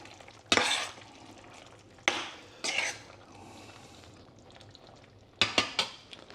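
Madras curry sauce thickening in a pan, stirred with a utensil in a few sharp scraping bursts over a soft continuous sizzle, with clinks near the end.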